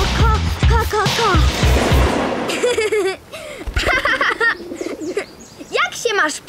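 Small cartoon bird chirps and coos in short repeated tweets, mixed with animated character voices talking and playful music throughout.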